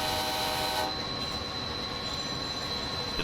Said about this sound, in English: I like to do the horn and a bell as if I approach a platform, just as a safety measure